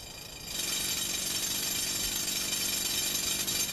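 A harsh, steady grinding whine of a powered drill boring through hard rock in the mountains starts abruptly and runs continuously, loud and close, then cuts off at the end.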